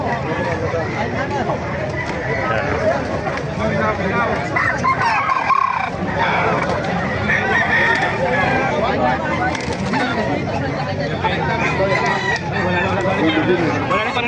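Fighting-breed chickens and roosters at a Philippine poultry sale cluck and crow amid a busy crowd, with people talking and murmuring loudly over the birds the whole time.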